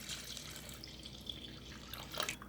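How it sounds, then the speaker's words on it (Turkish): Milk poured into a dry mix of sugar, cornstarch and flour for a strawberry cake filling, a soft continuous liquid splash and trickle, close and steady, without talk. "Sonra 4 su bardağı sütümü ilave ediyorum."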